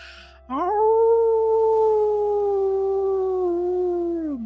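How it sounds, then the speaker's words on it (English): A long, steady wolf howl rises sharply, holds a clear tone and slowly falls, sounding alone and fairly loud rather than far off. "you hear the actual howl of a wolf off in the distance"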